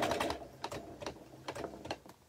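A sewing machine runs a quarter-inch seam while stitching ribbon for a tea caddy, heard as several short bursts of rapid mechanical clatter separated by brief pauses, fairly faint and close.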